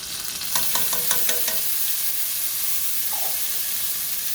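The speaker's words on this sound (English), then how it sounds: "I'm going to add my garlic to that" Garlic for chicken Alfredo drops into a hot pan with a brief cluster of sharp crackling pops, then settles into a steady, close sizzle that continues alone.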